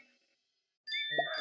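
A bright phone notification ding rings out after near silence, its clear tone loud and close with a fuller sound swelling underneath.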